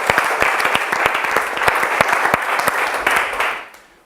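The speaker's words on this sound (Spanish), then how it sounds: "Un aplauso para Cristo y para él." An audience at an International Bible Institute theology class applauds steadily and loudly for about four seconds, with dense clapping that fades out at the end.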